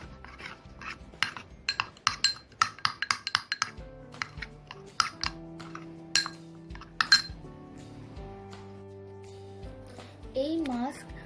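Spoon clinking against a bowl while potato and honey face mask is stirred, a quick run of sharp taps and scrapes, then quieter bumps with music playing underneath.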